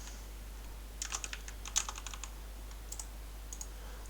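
Typing on a computer keyboard while entering a date into a spreadsheet: a short burst of close, light key clicks, then a few scattered taps after a pause, with no talking.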